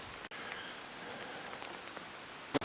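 Rain falls steadily and softly on an early, quiet morning near a reservoir and a church in Matka Canyon outside Skopje, a faint even patter with no voices.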